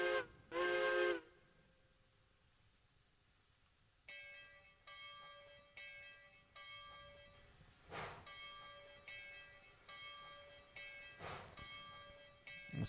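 A steam locomotive pulling a Christmas train into a station in Railroads Online: a short sharp whistle blast opens, then a bell rings repeatedly and evenly while the train rolls in with soft mechanical chuffs.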